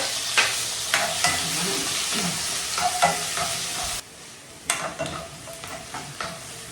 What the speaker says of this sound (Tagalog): Unahin natin yung bawang at saka bilyas para ma-fry ng konti.